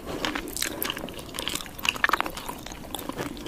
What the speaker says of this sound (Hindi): कैबेज के अंदर चिकन डाल दिया, पान की तरह से मोड़ लिया और सॉस में डुबाकर खा रही है।